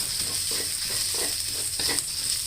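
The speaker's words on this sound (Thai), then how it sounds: "ผัดให้พริกแกงหอมก่อนนะคะ ค่อยใส่กะทินะคะ" Thai panang curry paste stir-fried in a pan with a continuous loud sizzle and rhythmic scraping strokes of a spatula, with no talking.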